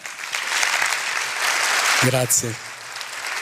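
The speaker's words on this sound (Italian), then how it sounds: "Applauso." Concert audience applause rises as a dense wash of clapping, with a voice briefly speaking over it partway through, and the clapping carries on at moderate volume afterward.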